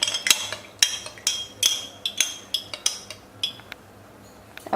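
A spoon stirs nannari syrup for a tender coconut and nungu sarbath, knocking against the glass in a quick, regular series of bright clinks that slow and thin out toward the end. The clinks are close and clear, with no talking.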